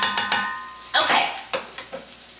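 Garlic sautéing in a pan is stirred around, with a light sizzle under several quick scraping strokes, close and moderately loud, and no talk.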